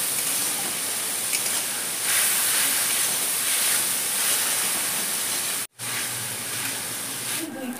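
Ginger-garlic paste hits a hot pan of chopped onions for a Bengali potol and prawn curry, giving a steady, loud, dense sizzle that fills the whole stretch with only a brief break near the end.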